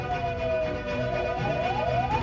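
Fire engine sirens at a burning Islamic boarding school in Mojoroto, Kediri, East Java, wailing in a steady rise-and-fall pattern, moderately distant, over a constant background hum.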